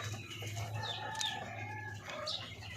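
Darag native chickens from Tarlac cluck and call in short, close bursts over a steady low background hum, with several birds overlapping and no talking.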